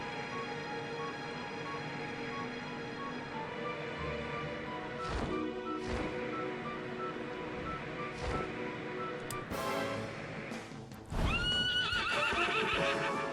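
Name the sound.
dragon horse neighing in Dragon Quest XI video game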